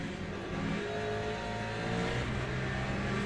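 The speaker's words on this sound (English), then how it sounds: "Oh, the Valkyrie sounds good." Aston Martin Valkyrie race car engine in a racing video game, a steady mid-distance engine drone with shifting pitch over a continuous road roar, heard alone without talk.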